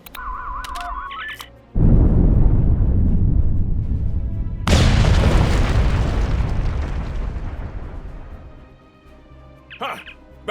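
Two heavy explosions boom in Star Trek Online, each a sudden loud blast followed by a long rumbling decay, with brief game sounds and chatter around them.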